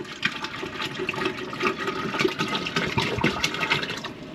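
Water is poured from a glass jar into a Berkey filter, a steady close gushing splash that rushes on for several seconds with no talk.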